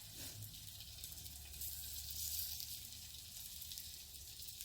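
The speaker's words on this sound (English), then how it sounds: "Y'all hear that sizzle, don't you?" Steady sizzling of quinoa burger patties frying in a hot pan, a continuous crackling hiss that swells slightly midway, with no talking.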